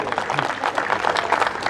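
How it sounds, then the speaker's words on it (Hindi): Audience at a Hindi poetry gathering (kavi sammelan) in Gorakhpur claps to welcome the poet, a continuous, fairly loud patter of many hands with no gaps. "पहले ही तालियां बजा के स्वागत करें इसलिए"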